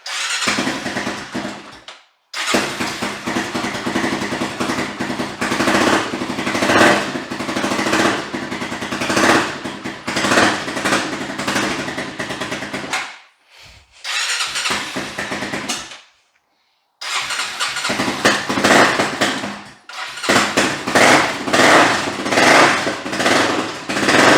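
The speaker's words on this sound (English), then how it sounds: "The engine does sound healthy. It doesn't sound like it's knocking." A beat-up Honda 400EX ATV with a carburetor in need of cleaning runs roughly up close, its loud, uneven engine note sputtering and briefly cutting out several times.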